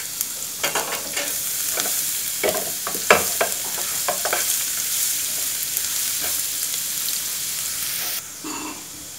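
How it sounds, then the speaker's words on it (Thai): Sliced onion and garlic fry in a pan with a loud, constant hiss, broken by frequent scraping and tapping as a utensil stirs them. The sizzle dips and quiets just before the end, and nobody speaks. "ก่อนอื่นเราใส่เป็นหอมใหญ่ครับกับกระเทียม ซอยนะครับ"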